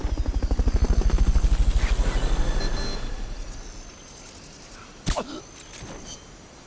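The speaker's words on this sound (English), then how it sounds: "Fulton Recovery subject confirmed onboard helicopter." A helicopter in the Metal Gear Solid Peace Walker video game thumps with a loud, rapid rotor beat that slowly fades away, followed by quiet and a brief sharp electronic blip near the end.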